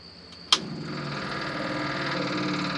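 An old, long-idle Dodge car engine with a knocking rod cranks and fires with a sharp burst, then settles into a steady, continuous idle that stays loud and close.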